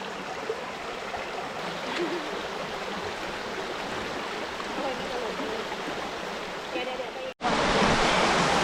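Stream flowing at a campsite in Loei, Thailand, a steady close rush of water throughout, ending with a sharp cut to louder hiss.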